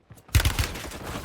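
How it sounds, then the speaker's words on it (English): Gunfire in Call of Duty Warzone on Fortune's Keep: a brief, loud burst of rapid shots with heavy low thumps, trailing into a lingering rumble. "I'm under fire."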